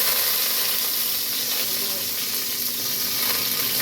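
Curry leaves dropped into hot oil in Tamil cooking, a dense continuous hiss and sizzle, loud and close throughout, with no talk over it.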